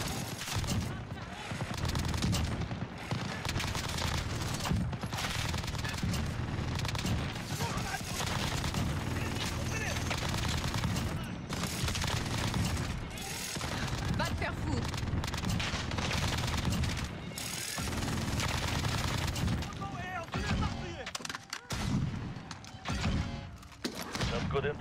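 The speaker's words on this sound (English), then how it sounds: "Sentry gun set." A sentry gun fires continuously in a shooter video game, a loud sustained rattle of rapid shots with impacts and mechanical clatter throughout, with occasional speech mixed in.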